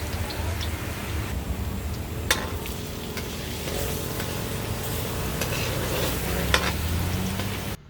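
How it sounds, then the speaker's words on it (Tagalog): Marinated beef sirloin sautés in a pan for a stir fry, a continuous close crackling sizzle with occasional sharp ticks and utensil taps, no talking. "atin na po itong gigisahin"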